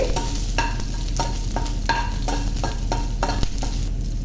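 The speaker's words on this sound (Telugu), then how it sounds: "ఇప్పుడు పచ్చిమిరపకాయలు అండి మీ స్పైసీని బట్టి పచ్చిమిరపకాయలు వేసుకోండి వేసుకొని ఇవి బాగా వేగనివ్వాలి" Green chillies fry in a pan under a steady, loud sizzle, punctuated by regular scraping stir strokes roughly every half second, with no talking.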